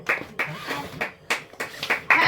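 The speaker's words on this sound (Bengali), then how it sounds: "সবাই মিলে হাততালি চলো চলো" A group claps hands at a child's birthday celebration, giving a handful of separate, close bursts of claps at an uneven pace, mixed with voices talking.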